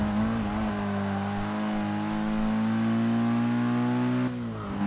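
Race car engine in the Forza Motorsport 6 racing game holds a loud, steady high-revving drone with a sharp shift in pitch near the end, no talk over it.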